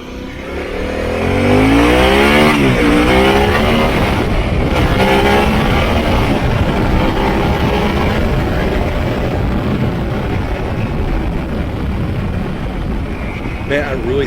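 A 2021 Harley-Davidson Pan America motorcycle accelerates hard during a speed run, its engine note climbing through several rising sweeps before settling into a loud sustained roar with wind rush, heard close from the rider's position.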